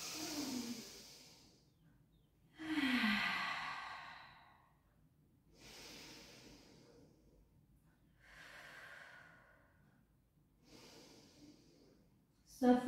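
Deep breaths in and out during a Pilates butterfly stretch for the hip flexors, five slow airy inhales and sighing exhales spaced evenly, close and soft, ending with a short louder sound.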